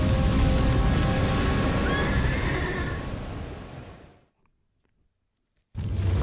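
A fast galloping horse whinnies in the fantasy adventure game Dark Parables, hooves and neigh blending with music before fading to brief silence, then sound returning abruptly.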